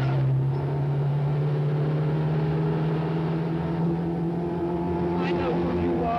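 A car engine hums steadily and fairly loud as the vehicle drives along a dirt road in a 1970 thriller, a constant low drone that holds throughout the scene.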